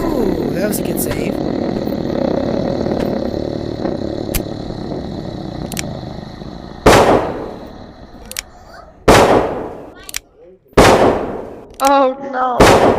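Revolver shots fired in the VR game Animal Company, several sharp loud blasts in the second half, spaced irregularly, over a busy game background with speech.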